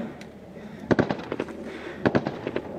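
Gunfire crackles in combat in Afghanistan, with two quick clusters of sharp, moderately distant shots cracking over a faint background of movement and ambient noise.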